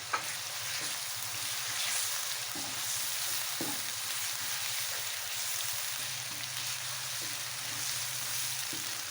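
Chopped tomato frying in a pan for beef nihari hisses in a steady, even sizzle, with a few soft stirring taps and a low background hum.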